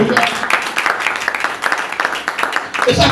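A church congregation applauds with scattered clapping and cheering, loud and continuous throughout, with some voices mixed in.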